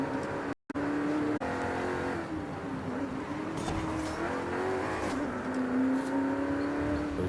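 A race car's engine drones and revs in Forza Horizon 5, pitch climbing and dropping with gear changes across a continuous, loud stretch with a brief cut near the start and faint tire noise.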